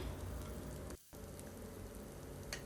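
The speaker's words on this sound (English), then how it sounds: "And now on medium flame, we will saute them for a few seconds." Ginger, garlic and baby corn sautéing in a pan over a medium flame: a steady, dense sizzle with a brief near-silent break and a small clatter near the end, close and even.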